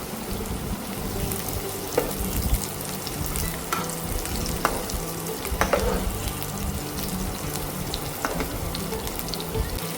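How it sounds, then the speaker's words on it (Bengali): Steady sizzling and crackling of two large chopped onions frying in three tablespoons of hot oil, with occasional clinks and stirring sounds from a frying pan close by. "ফ্রাই প্যানে তিন টেবিল চামচ তেল দিয়ে দিলাম আর দুটা বড় বড় পেঁয়াজ কেটে এর মধ্যে দিয়ে দিলাম"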